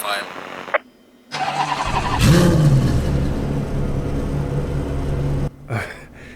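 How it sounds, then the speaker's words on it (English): A race car in Assetto Corsa Competizione starts and revs up, then settles into a loud, steady engine drone, with someone talking briefly before and after. "Just let me hear the engine."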